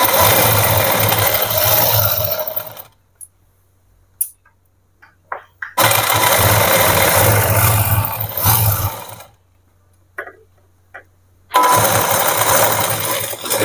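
A sewing machine stitches an Afghani salwar in loud, close bursts of rapid rattling, each running a few seconds, separated by quiet pauses with faint handling clicks of the fabric.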